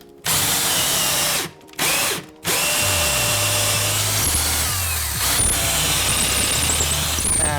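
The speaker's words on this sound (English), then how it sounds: "I'm drilling this hole" A power drill whirs loudly in short bursts, stopping twice before a long continuous run that bites into wood while drilling a hole for a floating shelf, its pitch dropping under load.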